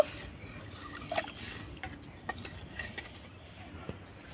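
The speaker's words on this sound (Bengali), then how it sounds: "এবার আমি একটু নাড়াচাড়া করে গরম করে নেব" A spoon stirs milk in a pan on the heat, making faint, scattered scrapes and soft taps against the metal over a low background hum.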